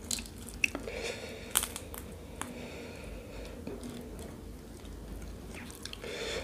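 Someone eating bucket-style shrimp with a spicy sauce, close-miked wet chewing and crunchy bites, with sharp crackles at irregular intervals over a steady soft mouth noise and no talking.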